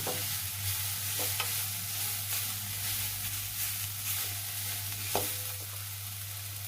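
Grated carrots frying in ghee with cardamom in a pan for carrot kheer, stirred by hand: a steady close hiss of sizzling with a few soft scraping knocks of the spoon against the pan, no voices.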